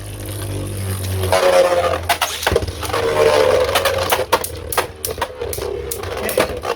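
Beyblade Burst spinning tops clash in a plastic stadium, several sharp cracking hits and scraping impacts over a steady whirring rumble, close and fairly loud with no talk.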